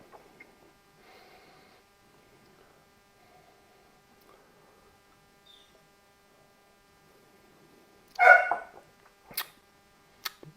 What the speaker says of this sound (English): Might be able to hear my dog in the background.